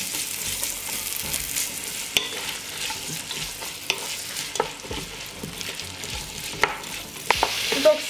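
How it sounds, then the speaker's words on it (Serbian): Chopped onion frying in oil in a pot, a steady close sizzle with scattered stirring clicks and scrapes, no talk. "Luk ću pržiti dok ne omekša."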